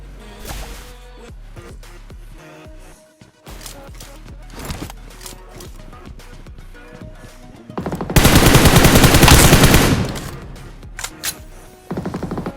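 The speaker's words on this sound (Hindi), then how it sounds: "लेकिन तभी मेरे को पीछे से फायर पड़ता है।" Automatic gunfire in the BGMI mobile battle royale game: scattered shots and short bursts, then a long, loud, sustained burst of rapid fire near the end, over background game sounds.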